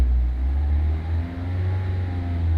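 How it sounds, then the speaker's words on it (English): A manual transmission car pulls away in first gear under light throttle, its engine giving a steady low rumbling drone close by, with no speech. "Put it in first gear and give it just a little bit of gas."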